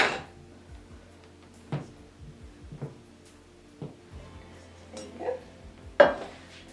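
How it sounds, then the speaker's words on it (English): A palette knife scraping and tapping against a metal cake tin as a sponge cake is eased out, with sparse close clinks and scrapes separated by quiet pauses, and a sharper knock near the end. "using a palette knife, I'm going to gently take it out of the tin"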